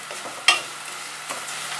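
Food roasting in a hot pan being stirred, with a sharp scrape of the utensil followed by a soft sizzle and a second quieter stir stroke, close and brief.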